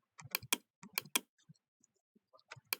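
Quiet bursts of keystrokes on a computer keyboard, a few quick clusters of clicks followed by sparse single taps, close and alone.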